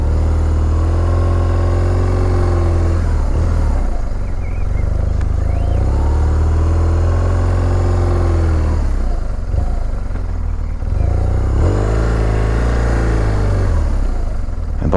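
A motorcycle engine revs through a tight U-turn during basic rider training, a loud, close, steady mid-pitched drone that rises and falls in pitch in slow waves as the throttle is blipped repeatedly over fifteen seconds.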